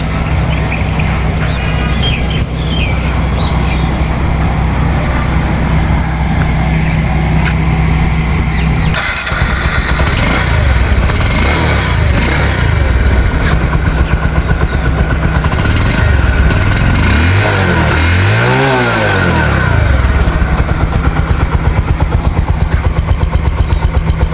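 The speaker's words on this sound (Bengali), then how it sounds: "গাড়িটা এখন স্টার্ট করে সাউন্ড কন্ডিশন দেখাবো" A second-hand Bajaj Discover 125cc motorcycle, 2022 model, is kicked into life partway through, then idles close and loud with a sharp rev near the end. No one speaks.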